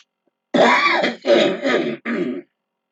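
A close, rough throat clearing followed by a few harsh cough-like bursts in a quick uneven series, then quiet.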